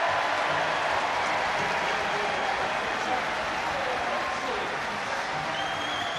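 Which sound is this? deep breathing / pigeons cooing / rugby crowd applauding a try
rugby crowd applauding a try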